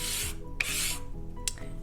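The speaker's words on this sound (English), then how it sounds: "you're going to take your piece of chalk and just using the side of it, you're going to just rub up and down" A piece of chalk is rubbed by its side up and down on chalk-painted wood in three short, raspy strokes, close and fairly quiet, with no talk.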